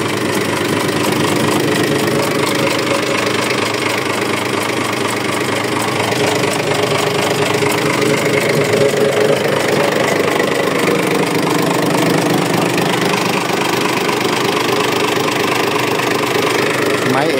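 A Mitsubishi 6D14 diesel engine idles steadily on a test run, a close, continuous rough rumble with a fine rapid knock throughout, holding an even level from start to finish.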